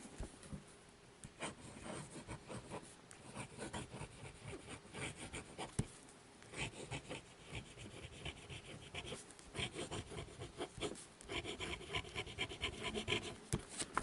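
A Cross Bailey fountain pen scratching across paper in steady, continuous strokes, close and quiet, with a dry rubbing texture and brief pauses between words.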